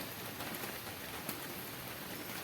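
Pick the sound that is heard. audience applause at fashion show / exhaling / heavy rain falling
heavy rain falling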